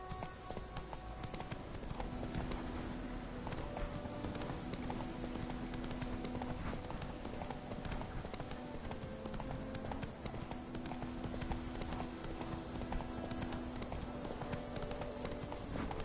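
The horse Roach gallops steadily in a Witcher video game, with continuous, fast hoofbeats that stay close and loud throughout, over a faint background tone.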